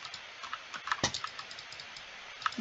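Clattering keystrokes on a new computer keyboard, quick irregular clicks with one sharper press near the middle, close and moderately quiet, with no speech.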